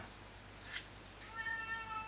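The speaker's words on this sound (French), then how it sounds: "Ah, le chat qui s'exprime." A cat meows indoors, one short faint cry followed by a quieter, longer drawn-out call, distant and soft against a quiet room.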